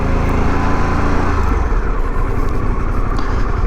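A Harley-Davidson Pan America motorcycle engine while riding on a dirt track, a loud close steady roar with a low rumbling tone and no speech.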